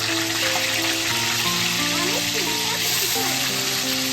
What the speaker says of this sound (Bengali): তেল গরম করতে বসিয়ে দিয়েছি, এবার পনিরটা ঢেলে দেবো।